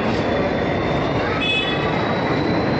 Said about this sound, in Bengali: তারাপীঠে যাওয়ার যে ট্রেন কবিগুরু এক্সপ্রেস, সেটি এই ঢুকছে।